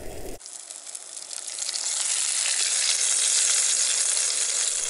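Oil sizzles in a backcountry skillet over a camp fire, a bright steady frying hiss that swells after a brief opening and holds loud and close without any talk.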